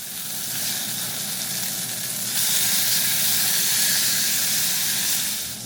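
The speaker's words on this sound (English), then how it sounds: "I'm going to air fry these." Air fryer cooking seasoned food with a steady hissing, sizzling roar, close and fairly loud throughout, growing slightly brighter partway in, with no talking.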